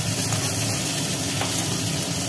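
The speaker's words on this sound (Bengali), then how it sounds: "ভোলা মাছ ভাজা কমপ্লিট।" Pieces of large poa bhola fish fry in hot oil, giving a steady, close crackling sizzle that holds without a break, with no voices.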